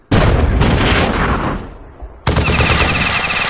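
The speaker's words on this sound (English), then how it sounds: "basic tank shell shots is what this thing has" Heavy tank cannon fire from the Heavier Tank in the Battle Nations video game: loud booming shell blasts, one near the start and another around two seconds in, each followed by a rumbling roll of gunfire.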